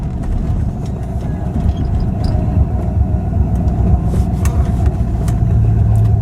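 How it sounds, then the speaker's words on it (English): A car fitted with a Flowmaster exhaust accelerates hard at wide-open throttle, its loud, deep engine rumble building steadily and holding strong, heard from close range with no talk. "it whips your head back when you floor this car"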